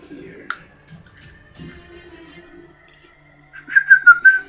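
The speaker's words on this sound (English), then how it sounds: "The whistling" A faint high whistle drifts briefly, followed by a louder warbling whistled phrase near the end, with a click and soft background noise.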